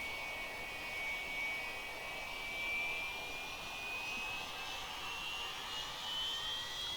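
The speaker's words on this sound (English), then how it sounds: "Listen to those JT80 engines." Steady, loud roar of an MD-80's JT8D jet engines with a high whine slowly rising in pitch as they spool up for takeoff; no voices.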